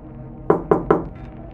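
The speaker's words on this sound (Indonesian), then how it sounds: "Dia ketok pintu kamar mandi." Three quick, evenly spaced knocks on a bathroom door at night, close and distinct against a quiet room, with nothing following them.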